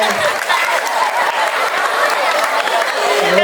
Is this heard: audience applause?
yes